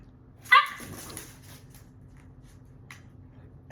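A puppy lets out one sharp, close bark near the start, then goes quiet apart from a soft low hum and a few faint rustles.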